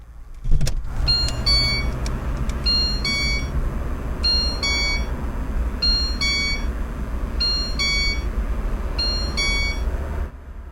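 Over a low engine rumble inside a VAZ 2114 car, a chiming electronic door-open warning tone repeats in evenly spaced bursts of quick beeps, clear and close.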